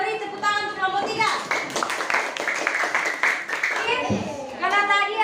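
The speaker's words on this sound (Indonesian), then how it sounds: "kita beri tepuk tangan untuk kelompok 3" Pupils in a classroom clap for group 3 in a short burst of applause. A teacher's voice comes before it and after it.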